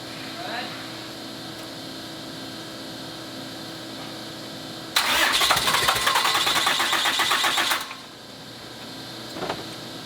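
An 1100HP engine on a dyno cranks and fires, bursting into a loud, rough roar for about three seconds before settling down, with a steady background hum throughout.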